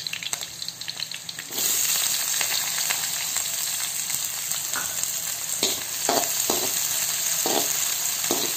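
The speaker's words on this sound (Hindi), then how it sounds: "प्याज को अच्छा गोल्डन ब्राउन होने तक इसको भूनेंगे" Chopped onion and a green chilli frying in a pan for onion masala poha, a steady close hiss that jumps louder once they go in, with occasional scraping stirs and no talk.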